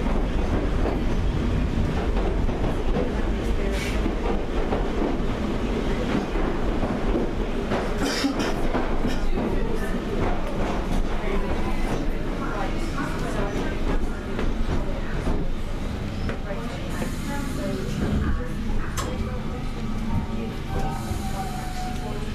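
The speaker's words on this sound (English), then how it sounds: "The train now approaching" A train approaches on the South West Main Line with a continuous rumbling rush and some rattling clatter, loud and steady throughout, with a faint voice now and then.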